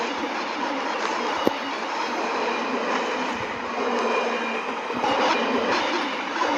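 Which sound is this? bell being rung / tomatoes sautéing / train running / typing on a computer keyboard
train running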